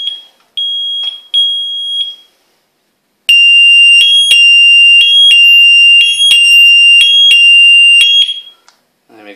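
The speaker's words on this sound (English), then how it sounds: "I'll show you a full alarm condition." Pyronix Enforcer wireless alarm going off indoors: loud, piercing electronic tones in short bursts, then a sustained run of rhythmic pulsing beeps.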